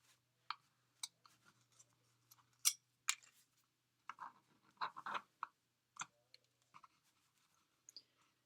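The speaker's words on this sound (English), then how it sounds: "So now we can just kind of trim our bow." Scissors trimming the ends of a ribbon bow on a Dollar Tree frame, a series of quiet, close, crisp snips spaced irregularly with short pauses between cuts.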